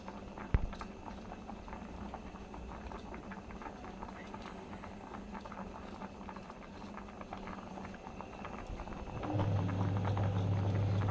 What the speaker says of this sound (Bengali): ভাত কিন্তু ফটফট করে ফাটছে ফটফট করে ফাটছে নাকি ভাত? ফুটছে।